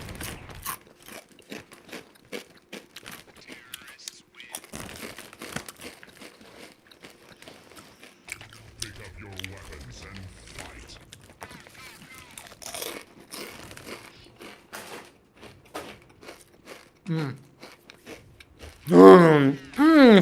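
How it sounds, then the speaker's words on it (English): Sweet chili kettle-cooked chips crunched close up in a few loud bursts, with sharp crackling bites near the end over quieter background chatter and game sounds. "I forgot almost that I have, some sweet chili kettle chips right here with me."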